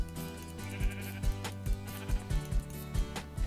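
Sheep bleats from Minecraft come through faintly, mixed into a busy bed of game music with steady rhythmic beats, with no voice over them.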